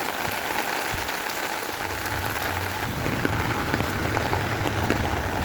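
A sudden afternoon downpour near a market, a dense, steady hiss of rain striking surfaces that grows slightly heavier and lower as it goes on, with no voices over it.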